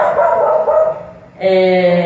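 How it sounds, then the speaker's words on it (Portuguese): A dog barks outside an open home garage: a couple of loud, close barks, with a short pause between them. "Está um pouco barulhento ali o cachorro latindo."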